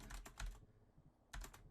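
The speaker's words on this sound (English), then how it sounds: "if you're hearing a keyboard, it's all in your head" Computer keyboard typing, faint and close: two short bursts of quick key clicks separated by a brief quiet gap, with no voices.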